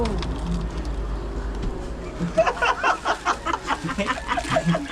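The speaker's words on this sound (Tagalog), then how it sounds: "Yun ibon na kalapati." A pigeon coos on a house ceiling, soft rhythmic throaty pulses rising in the second half after low rumbling at the start, with a voice faintly present.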